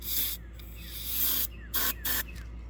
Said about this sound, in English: It's a can of dented up Dollar General starting fluid, and spray it down